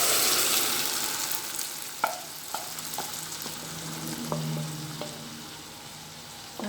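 Onions and tomato juice fry and sizzle steadily in a pan, with a spoon scraping and clinking against it at irregular intervals throughout.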